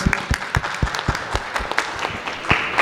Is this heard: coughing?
no